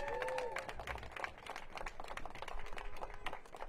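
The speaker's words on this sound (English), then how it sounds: "Let's give them all a round of applause." Audience applause at an outdoor small business showcase event, a crowd's clapping mixed with background chatter and street ambience, steady and moderately distant.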